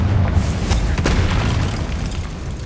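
A Confringo spell explosion from the video game Hogwarts Legacy lands as a loud, deep boom that rolls on with a sustained rumble, heard alone with no voices.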